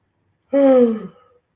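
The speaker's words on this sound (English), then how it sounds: "How you yawning?" A single drawn-out vocal exhale, loud and close, rising then trailing off over about a second, like a yawn.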